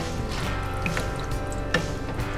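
Water and rice stirred together in a cooking pot, giving wet sloshing and dripping sounds that run steadily with a few brief clinks, close and moderately loud with no talking.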